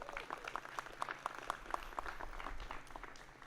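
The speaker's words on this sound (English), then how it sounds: "Graduates, give your families a round of applause." Graduates applauding their families at a school commencement, a brief burst of crowd clapping with a few distinct nearby claps in a steady rhythm before fading into a low murmur.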